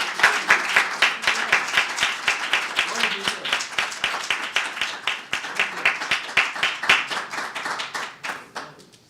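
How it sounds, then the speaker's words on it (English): An audience at a community event gives a round of applause, with steady, loud clapping from many hands that carries on for several seconds before it gradually fades. "Let's give Marco Ferbetti another round of applause."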